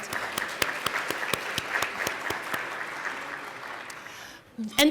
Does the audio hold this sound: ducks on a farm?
no